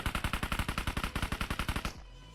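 Rapid automatic gunfire in PUBG Mobile, a fast even burst of about twenty shots at close range, stopping abruptly and leaving a low ringing tail.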